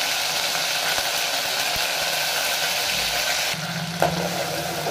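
Ginger garlic paste frying in hot oil, a continuous close crackling sizzle that holds steady for several seconds, then drops to a lower spitting hiss with a soft clink near the end.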